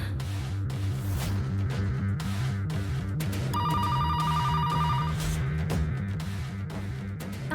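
A telephone rings in a repeating electronic pattern over a steady background music bed, and a brighter trilling burst rises midway through. The ringing is loud and continues for several seconds with no talk.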